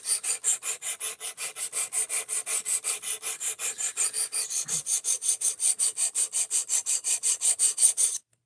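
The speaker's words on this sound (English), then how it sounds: "I'm sharpening my knife." A knife blade draws over a sharpener in a regular run of about forty quick, rasping strokes, close and even, ending abruptly.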